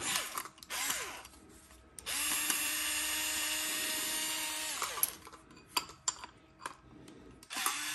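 A power screwdriver whines steadily as it backs screws out of the power supply converter on a light's rear, with short bursts, clicks and handling noises around the long run.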